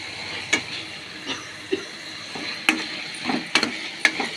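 Fenugreek leaves fry and get stirred in a pan with green chillies for a chutney. A soft sizzle runs under scattered scraping clicks of a spatula, close and fairly quiet.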